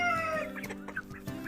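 Larmot breed chickens clucking close by in a coop, with soft repeated clucks and short calls over a steady low background hum.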